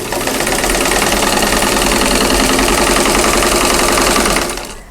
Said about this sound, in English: going to start sewing from the top center down to the bottom right hand corner